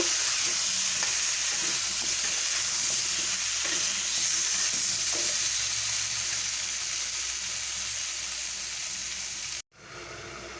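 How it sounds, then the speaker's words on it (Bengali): Vegetables stir-fried with spices and ground cumin for a Bengali rohu fish curry, a steady loud sizzle with occasional spoon scrapes against the pan, cutting off abruptly near the end. "দিয়ে আমি পুরো মশলাটার সঙ্গে সবজিটাকে মিশিয়ে নেব"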